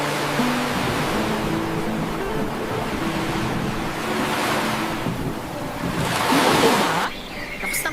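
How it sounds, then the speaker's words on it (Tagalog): Strong monsoon wind and rain roar steadily in a broad, rushing wash that swells louder toward the end, with no speech over it. "Lakas ng hangin at ulan eh."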